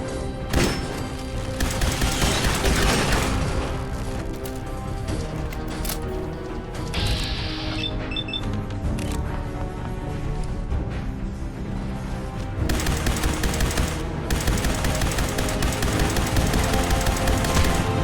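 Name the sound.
gunfire in free fire zone, Fallout 4 video game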